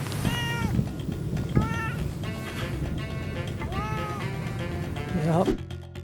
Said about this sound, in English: This cat wouldn't leave me alone.